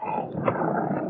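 A dog growls low and continuously in an old-time radio drama sound effect, set in a hotel elevator, a steady rough rumble close up with no talk over it.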